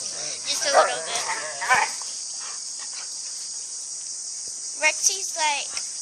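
Two puppies play fighting, giving short yips, growls and squeaky vocal bursts in scattered clusters over a steady high insect-like drone, close and moderately loud.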